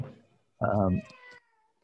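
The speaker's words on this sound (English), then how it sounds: "We'll have a couple cats on it too." A cat meows once in the background, a short clear cry that rises above nearby quiet conversation in a home setting.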